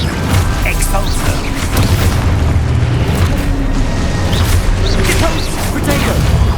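A spell explosion in Hogwarts Legacy, a dense, loud, continuous rumble of blasts and magical effects with game sounds layered throughout, no pauses.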